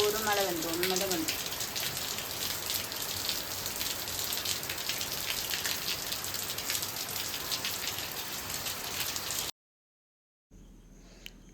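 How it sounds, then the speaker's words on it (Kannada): Heavy rain pours down steadily, a dense close hiss of drops spattering on surfaces for about nine seconds before abruptly cutting to near silence. "ಈಗ ನೋಡಿ ಜೋರು ಮಳೆ ಬಂತು, ಒಮ್ಮೆಲೆ ಬಂತು."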